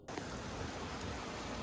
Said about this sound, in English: Thunderstorms tonight